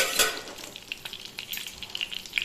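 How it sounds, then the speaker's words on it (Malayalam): Fish fries in a pan with a close, crackling sizzle, scattered sharp pops and spits rising over a continuous hiss, no voices present. "സെറ്റാക്കി മീൻ പൊരിക്കാൻ വെച്ച്"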